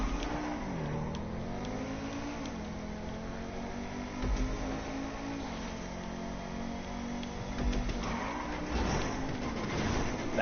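Racing car engine in GTA Online drones steadily throughout, its pitch rising and dipping through gear shifts, loud and close with no talk over it.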